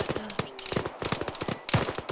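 Video game gunfire in a tactical shooter, rapid bursts of sharp shots crackling in quick succession while a voice talks over them.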